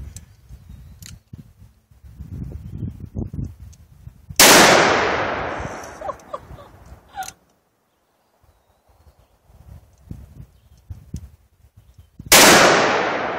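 Gunshots from a .44 caliber handgun at an outdoor shooting session: two very loud, sharp blasts several seconds apart, each with a long booming decay, while people talk quietly nearby in between.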